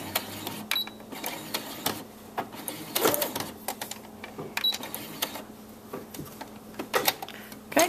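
Sewing machine backstitching the corner of a crib sheet, a series of short rapid mechanical stitching bursts with brief pauses between, close and fairly clear.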